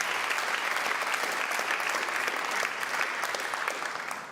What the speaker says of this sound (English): A final round of applause, please, for all the incredible pledges and numbers we heard earlier today.